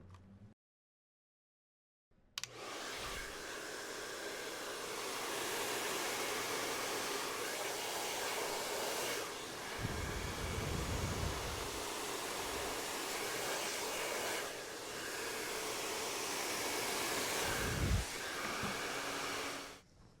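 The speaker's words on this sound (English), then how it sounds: "one of the most common mistakes in blow drying is pointing the nozzle upwards instead of downwards" A handheld hair dryer blows steadily while hair is blow-dried with the nozzle pointed downward, a continuous close airy roar that starts after a brief silence and dips briefly as the dryer moves.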